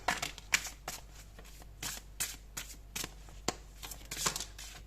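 Tarot cards are shuffled for a horoscope reading with a run of soft, close riffles and slaps in an uneven rhythm, with quiet pauses in between.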